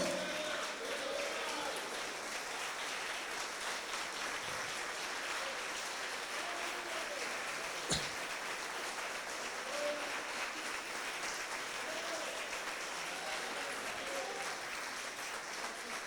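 Long, even congregation applause at a church congress, a dense wash of clapping that holds steady throughout, fairly distant, with faint voices beneath and a single sharp knock midway.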